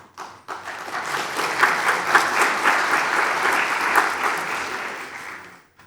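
An audience applauds a speaker taking the stage at a conference on artificial intelligence and architecture, with steady, moderately loud clapping that swells and then fades out over several seconds.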